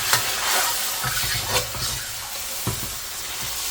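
Garlic is stirred and fried in a carbon steel wok: a steady, close hiss of sizzling oil with scraping and clinking strokes of a utensil against the metal, no talking.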